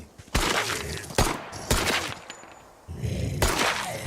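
Pistol shots fired at a zombie in a video game: four sharp, loud reports spaced about a second apart, each with a short ringing decay and no talking.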